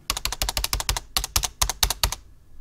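Rapid keystrokes on a computer keyboard, a quick close burst of clicks in an uneven rhythm lasting about two seconds before stopping, with no talking.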